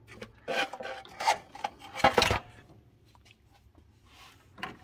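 Prying a valve cover off a Toyota Tacoma 3RZ engine: a few short scraping, grinding bursts close by, the loudest about midway, separated by quiet gaps.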